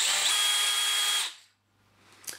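A Dewalt DCD796 18V cordless brushless drill whirs loudly at steady speed for just over a second, then its motor winds down quickly to a stop, followed by a faint click.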